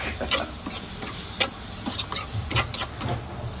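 Ingredients for ginataang manok sautéing in a pan, with soft stirring scrapes and intermittent light sizzle ticks close by, steady and fairly quiet throughout.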